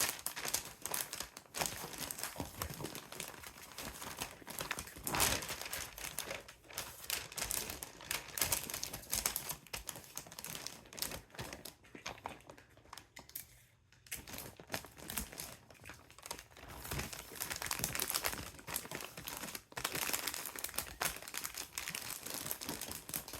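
Christmas wrapping paper being folded and crinkled around a present, a steady run of crisp rustling, crackling and tape-like rasps lasting throughout at close range, with a brief near-silent pause partway.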